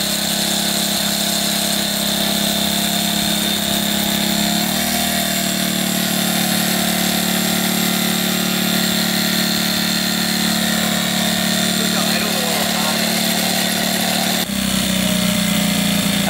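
A Yamaha YZ490 two-stroke dirt bike with a freshly cleaned carburetor and no pull cord runs after being spun up with a drill, a loud steady buzzing drone that shifts pitch midway and surges near the end.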